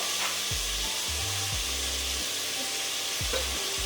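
Mushrooms sizzling steadily in a pan of half ghee and half oil for a mushroom donne biryani, a dense continuous frying hiss with a few low scraping stirs, close and with no talking.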